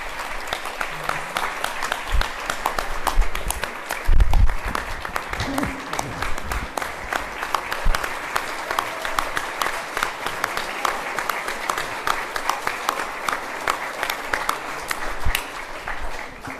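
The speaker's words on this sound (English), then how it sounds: "I think the standing ovation says it all" A lecture audience on entrepreneurship rises in a standing ovation, sustained dense clapping that holds steadily for over fifteen seconds, with occasional cheers and voices scattered through the crowd.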